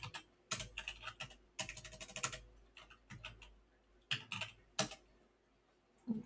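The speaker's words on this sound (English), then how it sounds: "My typing is atrocious today." Computer keyboard typing comes in quick irregular bursts of sharp clicks with short pauses between, close and fairly quiet, with no talking.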